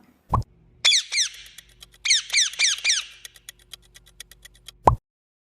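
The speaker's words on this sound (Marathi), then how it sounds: "होय बरोबर हा पोपट आहे" A bird lets out a run of quick, squeaky chirping calls, bright and close, trailing into faint clicks before a soft thud ends it.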